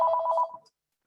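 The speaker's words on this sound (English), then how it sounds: "excuse me, that's my phone ringing" A mobile phone rings with a bright, rapidly trilling electronic tone that lasts about half a second and then cuts off into silence.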